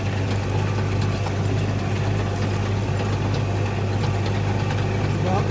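Vehicle engine running at a steady low hum during a bumpy ride on a farm irrigation project, with continuous rattles and mechanical clatter over the drone and a voice faintly under it.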